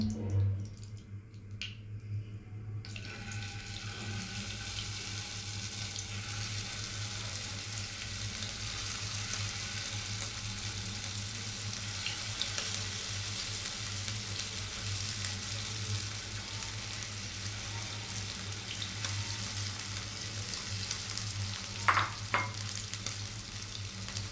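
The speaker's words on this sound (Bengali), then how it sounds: "আমি প্যানে এক টেবিল চামচ পরিমাণ তেল দিয়েছি এবার আমি চিকেনটাকে আগে ভেজে নেব" Chicken frying in a tablespoon of oil in a pan, a steady close sizzle and crackle running continuously for the whole stretch, with a few soft stirring scrapes and no talk.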